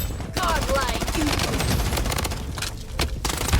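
Gunfire in the mobile shooter Blood Strike running at 120 FPS, heard as rapid sustained automatic bursts that are loud and continuous, with someone talking over the shooting.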